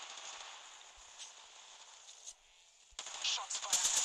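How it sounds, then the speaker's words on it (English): Gunfire in the shooter game Apex Legends starts faint under quieter game sound, then rapid bursts of shots grow louder and denser over the final second. "Shots fired."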